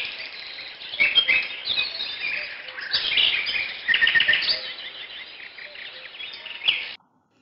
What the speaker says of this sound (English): The blue bird sings loudly.